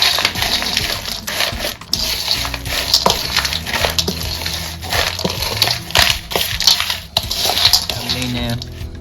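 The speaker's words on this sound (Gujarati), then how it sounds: "આપણે આને સારી રીતે મિક્સ કરી દેશું" A chaat masala snack with puffed rice, chickpeas, and local tomatoes is stirred and tossed in a bowl, giving repeated crunchy rustles and light clattering scrapes, loud and close, with people talking over it.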